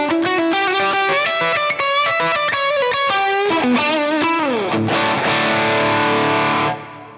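An electric guitar played through an EarthQuaker Devices Palisades overdrive pedal, thick and distorted, with a run of notes and chords ending on a sustained ringing chord.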